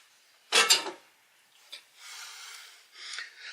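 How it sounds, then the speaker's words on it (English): An Instant Pot's metal liner and rack are set in place, giving a quick scraping clatter followed by softer rubbing and light metallic shuffles, close and fairly quiet. "I make sure that the liner is in my pot, and I also have the rack down in there"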